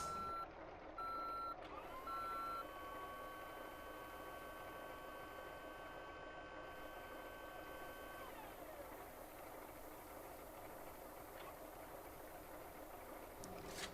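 Reversing beeps from a truck in the video game Motor Town, a steady train of evenly spaced electronic beeps over a constant engine drone, lasting most of the stretch before stopping near the end.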